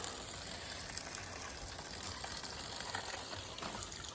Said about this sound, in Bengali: তাই জন্য জলটা এখন খুব সুন্দর পড়ছে